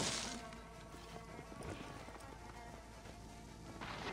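A horse in the video game Assassin's Creed Origins gives clattering hoofbeats and a brief whinny within dense, steady game background noise.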